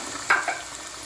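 Blood is stirred into sautéed onions in a hot pan, giving a soft, steady sizzle with a brief, sharper burst of frying as the ingredients meet. It is heard close, with no voices.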